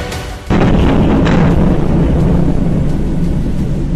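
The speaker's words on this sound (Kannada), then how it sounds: "ಬೃಹತ್ ಅಪಾರ್ಟ್ಮೆಂಟ್ ಮೇಲೆ ಬಾಂಬ್" Bomb blast striking a large apartment building: after a brief quieter lead-in, a sudden loud, deep boom erupts and rolls on as a sustained rumbling roar with crackling debris, very loud and unbroken to the end.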